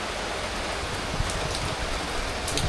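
Heavy rain coming in through an opening in Finland, a steady close rushing hiss with a few louder drops and knocks, no voices.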